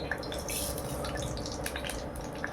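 Mustard seeds and urad dal crackle and spatter in hot oil in a pan, a dense, steady patter of tiny pops and sizzling that holds for the whole stretch with no speech.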